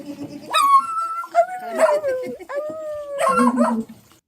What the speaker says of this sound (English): Here's one of the little dogs.